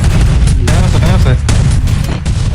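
Rapid gunfire in a shooter video game, loud dense bursts of shots, with a voice talking over them.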